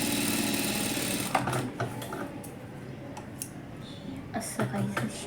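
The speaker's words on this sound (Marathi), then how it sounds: "त्याच्या अगोदर मी इथे खालून शिलाई मारून घेते" A sewing machine stitches a blouse, with a steady mechanical whir at the start that breaks into shorter bursts and clicks of gears and fabric handling, close and fairly loud.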